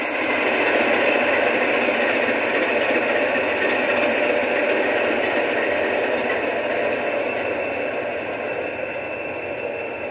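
An MTH DCS model train engine runs steadily, a continuous motor whir with rail noise that holds an even level throughout and eases slightly toward the end.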